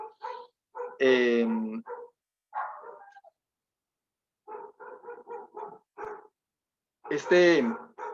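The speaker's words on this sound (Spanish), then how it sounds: "van a perdonar, hermanos, el ruido de los perros" Several dogs bark outdoors in sharp, uneven bursts, some loud and close, others shorter and lighter, with brief quiet gaps between volleys.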